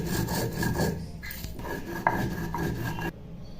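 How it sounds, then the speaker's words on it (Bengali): Roasted spices are ground into a fine powder for a fennel and ridge gourd vegetable dish, giving a steady close scraping and rubbing with brief clinks, continuous for about three seconds before easing off. "এই মশলাটাকে খুব ভালো করে মিহি করে গুঁড়ো করে নেওয়া হবে"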